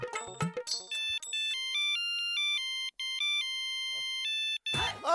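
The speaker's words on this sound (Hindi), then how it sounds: "जरा सभी को फोन कर देता हूँ, सबसे पहले सोढ़ी।" A mobile phone ringtone plays a bright electronic melody of short repeating beeps for several seconds, loud and alone, with brief clatter at the start and end, during a phone call in a Hindi TV comedy.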